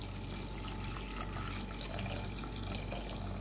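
Tap water pouring steadily into a cooking pot for boiling, a constant close hiss and splash with no breaks.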